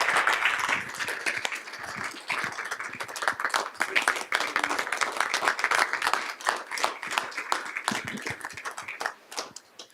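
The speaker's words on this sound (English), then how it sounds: "So if we could give another nice round of applause out to Boss" A board of education meeting audience gives sustained applause for a man honored for saving kids' lives, many hands clapping steadily and fairly close for about ten seconds, with some voices underneath.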